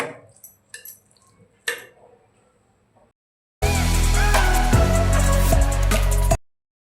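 Dal palak with fresh coriander stirred in a pan: a few faint wet taps and clicks, then about three seconds of loud, steady sizzling and scraping of the spoon through the thick mixture.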